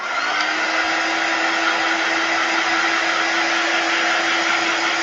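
Steady, loud whooshing roar of a heat tool drying paint on a painted clipboard, a constant blower sound with a faint motor whine running unbroken throughout, close to the listener, with no talking.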